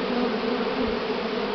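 Swarm of honey bees buzzing around a spring swarm while the queen is being caught, a dense, steady drone close by with no voices.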